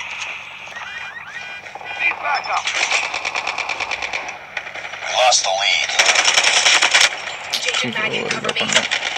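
Rapid bursts of automatic gunfire and explosions from a mobile shooter game played on a Samsung Galaxy A52s 5G, loud and sustained with repeated firing rhythms, while a person talks over the action.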